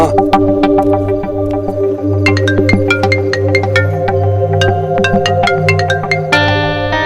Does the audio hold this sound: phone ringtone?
yes